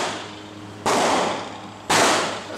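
Two sharp, loud 10 mm pistol shots fired at an outdoor shooting range, roughly a second apart, each a sudden crack followed by a short decaying tail.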